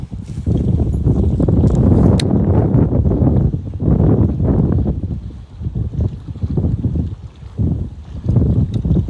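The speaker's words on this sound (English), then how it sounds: "Man, that wind." Strong wind buffets the microphone out on a lake during kayak fishing, loud rumbling gusts rising and falling throughout with faint water sounds beneath.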